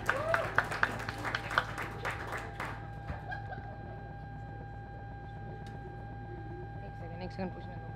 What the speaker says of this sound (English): please have a huge clap for Shivam